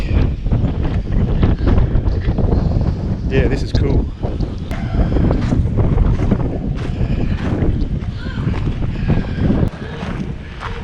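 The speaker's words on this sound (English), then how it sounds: "it's really windy here too, so you probably won't hear me." Strong wind buffets the microphone in a constant loud rumble, with a person speaking briefly beneath the roar, on the coast at Cape Le Grand near Esperance, Western Australia.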